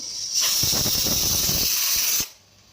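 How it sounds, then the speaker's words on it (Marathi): A pressure cooker whistle on a stove during misal cooking, one loud, close, steady steam hiss that rises sharply, holds for nearly two seconds, then cuts off to quiet. "इथे ना माझी कुकरची शिट्टी होते कारण मी आता मिसळ बनवते"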